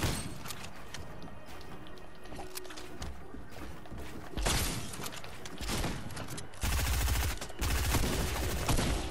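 A lever-action shotgun fires in a video game, bursts of loud blasts separated by slow gaps and mechanical clunks of the action, up close over a dense background of game noise.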